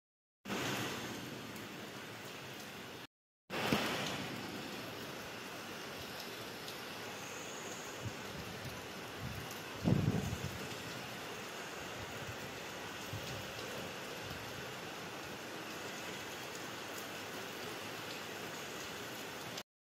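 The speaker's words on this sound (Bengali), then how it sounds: "কি জোরে মুষলধারে বৃষ্টি হচ্ছে" Heavy monsoon-style downpour outside a house in a Bengali village morning, a steady dense hiss of rain pouring without pause, with a brief dropout and one louder splash or thump midway; no one speaks.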